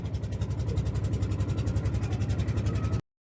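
A motor boat engine runs steadily on a river near a border island, with a low, even throbbing pulse close by for about three seconds before it cuts to silence.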